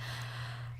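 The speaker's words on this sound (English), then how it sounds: "lioness breath" A forceful, breathy lion's-breath exhale from a yoga sequence, one continuous rush of air lasting under a second, close and loud over a steady low hum, with no talking.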